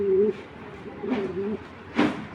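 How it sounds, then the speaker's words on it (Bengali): A Kitel racing pigeon pair, an older male and a young female, coos in three short throaty bursts up close, with quiet gaps between them. "দর্শক এখন যে কিটেল পেয়ারটা দেখাচ্ছি, নটটা এজ বার্ড, মাদিটা ইয়াং বার্ড, একটা কিটেল পেয়ার।"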